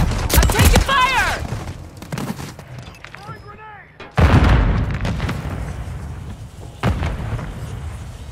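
Call of Duty Modern Warfare III combat: sharp gunshots, heavy booming blasts and rumbling explosions, with whistling sweeps and radio-style voice callouts in between.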